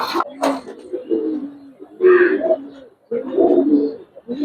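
Giribaz pigeons of the Palla line coo in a loft, several close, throaty phrases rising and falling in short bursts with brief pauses between them.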